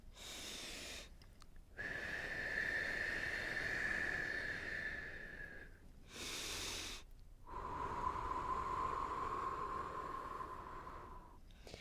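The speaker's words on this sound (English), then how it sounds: "Exhale through pursed lips like you're blowing out a candle." Slow, close breathing alone: a soft hiss drawing in through the nose, then a long, steady airy exhale through pursed lips, repeated twice at an unhurried pace.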